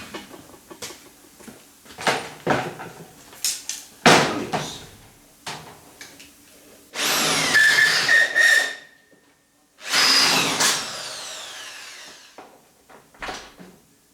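A power drill runs in two sustained whining bursts of a few seconds each, close and loud, surrounded by scattered knocks and handling clatter at a fabrication bench.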